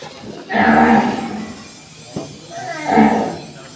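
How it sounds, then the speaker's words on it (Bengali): A bull moos loudly and close by in two long, drawn-out calls separated by a short pause, with no talking. "একটা ষাঁড় ডাকছে গাইস, রান্নাকে ডাকছে, বলছে খাবার দাও"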